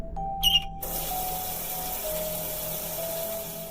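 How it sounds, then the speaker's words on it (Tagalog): A brief high squeak as a kitchen faucet is turned, then water gushes out and keeps running steadily, with a faint hum underneath. "Sumunod ay may pagtili ng gripo sa kusina."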